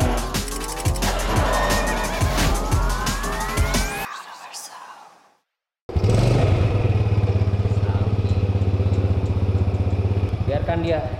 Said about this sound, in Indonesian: manasin motor keramat Pak Karel.